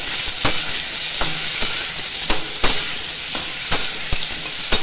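Whole garam masala spices sizzle steadily in hot oil for an egg curry, a bright continuous hiss broken by regular crackling pops and a few light stirring knocks, with no talk.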